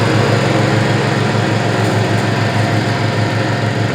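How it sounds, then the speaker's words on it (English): A Cutting Edge RC CE52T remote control lawn mower engine running under power, a loud steady drone with a fast even pulse, close and alone with no talking. "Give a little power, just like what we're doing in a mowing situation."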